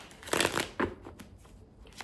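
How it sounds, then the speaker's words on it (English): Tarot cards being shuffled by hand during a zodiac reading, a run of crisp riffling bursts early on, then a few softer flicks and taps trailing off; no talking. "Oh, this was not a good shuffle."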